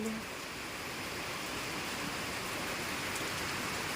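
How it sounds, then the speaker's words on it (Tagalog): Steady, dense typhoon rainfall in the Philippine countryside hisses evenly and without pause, a constant wash of heavy rain at moderate distance. "The rain is so hard."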